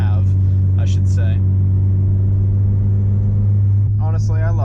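A Porsche 944 engine drones loudly and steadily from inside the car while cruising at normal speed, with a deep constant rumble as someone talks over it.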